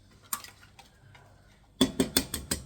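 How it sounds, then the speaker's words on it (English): Eggs cracked one after another into a bowl for a Victoria sponge cake, giving a run of four or five sharp, close taps and knocks in quick rhythm after a quieter start with a few scattered clicks. "So now we add the eggs."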